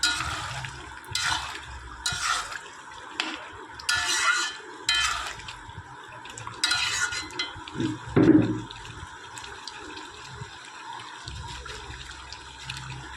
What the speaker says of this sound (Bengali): আবার নাড়াচাড়া করে নিচ্ছি এবং গ্যাসের ফ্লেমটা হাই করে দিচ্ছি এবং নাড়াচাড়া করবো